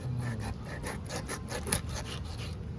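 A knife cuts the head off a vekha fish, a steady rough rasping stroke repeated in a fast even rhythm, close and continuous with no talking.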